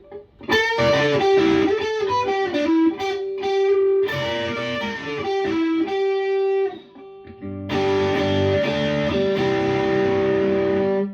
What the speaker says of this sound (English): Fourth position. Tell it's hum canceling there.